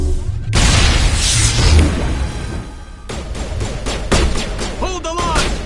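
Heavy gunfire and booming blasts in a Mass Effect firefight, a loud dense volley that drops briefly mid-clip, then resumes with more shots and voice fragments.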